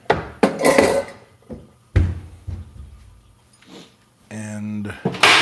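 Wooden clatter and knocks of a cutting board being pulled out in a home kitchen, several sharp bumps with a voice talking over them and a brief tonal hum near the end.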